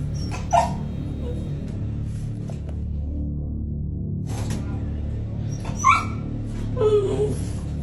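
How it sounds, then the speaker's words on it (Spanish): Frightened dogs whimpering and yipping in a house, a few short high-pitched cries scattered over a steady low background hum, with brief faint voices. "Tasha se dio cuenta de que sus perros tenían miedo de estar en algunas habitaciones"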